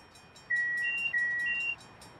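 A Long Island Rail Road commuter train horn at a crossing in Train Sim World 4, two long blasts in quick succession over faint rhythmic ticking.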